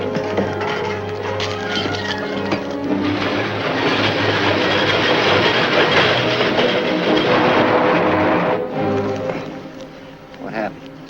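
A train runs on its tracks, a loud, steady rumble with rhythmic clickety-clack that holds for several seconds, then drops away sharply near the end.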